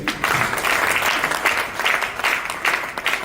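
Loud, vigorous applause from a crowd at a motivational business gathering, a thick continuous roar of clapping that swells and dips slightly in waves throughout, close and full.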